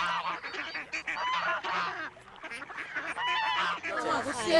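Farm ducks kept by a rural working group quack and honk loudly and continuously in a noisy flock, nearby and overlapping, with no clear speech over them.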